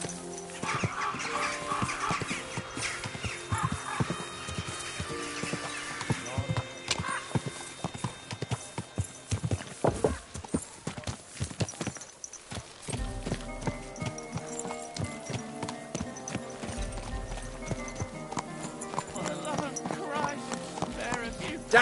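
Horse hooves clip-clop in the medieval video game Kingdom Come: Deliverance 2, a steady close trot under game music, with a horse whinnying and game characters talking over it throughout.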